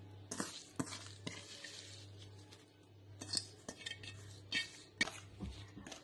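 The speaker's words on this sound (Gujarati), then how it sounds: "હવે આ બધું આપણે બરાબર મિક્સ કરીશું" Moringa leaf dhokla batter stirred with a spoon in a metal bowl, close and moderately loud, with irregular scraping swirls and sharp clinks against the bowl over a steady low hum; no talking.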